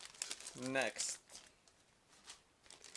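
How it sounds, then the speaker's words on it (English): A plastic bag from the box of a Meng 1/35 Leopard A3/A4 tank model kit crinkles close up in short rustling bursts, with a brief spoken word in the middle. "we have this plastic bag."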